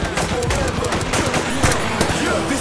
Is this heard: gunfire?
yes